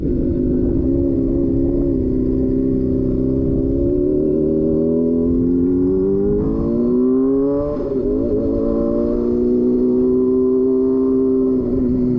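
A 2007 Honda CBR600RR motorcycle engine drones steadily up close while riding, its pitch climbing as it accelerates through a gear change and then settling at a cruising hum.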